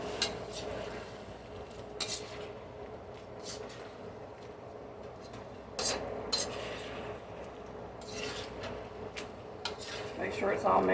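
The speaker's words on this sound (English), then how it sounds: "I'm going to give this a toss" Opo beef stir fry being tossed in a pan, with repeated metallic scrapes and clanks of utensils over a steady background sizzle, close and moderately loud.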